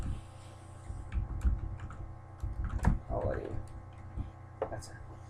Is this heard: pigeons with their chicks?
no